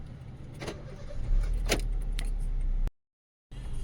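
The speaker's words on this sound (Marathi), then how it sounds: "थोडी साईडला घेतो गाडी" A car pulls over to the roadside on the Pune–Solapur highway after refuelling, its engine giving a low rumble with a few short knocks and rattles, then cutting to silence before the sound returns.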